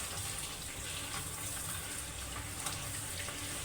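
Water runs steadily from a tap while chili peppers are washed, a continuous soft hiss and splash.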